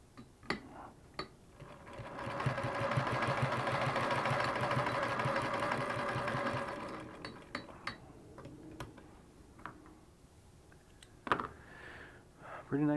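A Singer 32-1 sewing machine converted to hand crank stitches steadily, its rapid mechanical clatter running for several seconds close by, then stopping and giving way to scattered clicks and handling noises.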